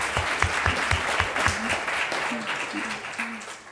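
Conference audience claps for the volunteers, a moderate round of applause at some distance, with a voice speaking over it near the end.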